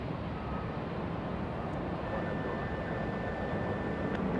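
A CRJ regional jet takes off at Los Angeles International Airport, a steady broad engine roar heard from a distance with a faint whine, constant and unbroken throughout.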